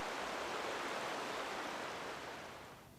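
River water rushing freely over and around ice in a snowy setting, a steady broadband roar close by that fades slightly toward the end, with no voices.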